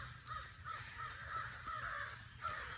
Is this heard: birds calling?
yes